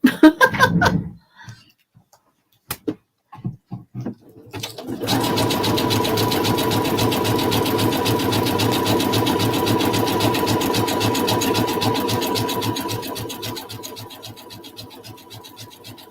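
After a few clicks and a short laugh, a home sewing machine runs in one long, steady, close stitching burst that eases off near the end.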